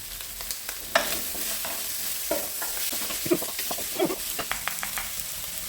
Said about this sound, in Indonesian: Ini digoreng aja terus.